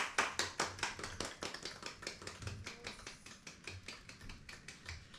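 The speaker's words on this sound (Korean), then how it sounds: "이분이 아 같이 박수 치라고" Steady rhythmic clapping keeps time along with a rock song, the sharp even claps close and distinct, with music faintly underneath.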